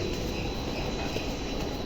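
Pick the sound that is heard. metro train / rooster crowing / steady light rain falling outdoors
metro train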